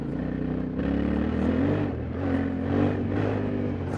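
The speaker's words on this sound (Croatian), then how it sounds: "motor na 50 je stabilan kroz ove puteve" A Yamaha Tenere 700 motorcycle rides over a rough, potholed road, its mid-pitched engine droning steadily with slight surges and a rattling clatter throughout, loud and close.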